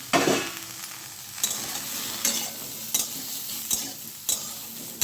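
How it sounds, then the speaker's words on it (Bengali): Potatoes fry lightly in a pan, giving a close, steady sizzle broken by several regular scraping stirs of a spatula against the pan, each a short, distinct burst. "আলুগুলো দিয়েও আবার হালকা একটু ভেজে নিচ্ছি"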